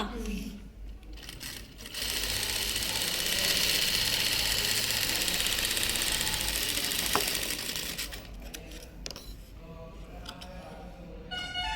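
A sewing machine hums in a long continuous run as it stitches around the edge of saree fabric for a high-neck blouse, stopping after several seconds, with someone speaking before and after.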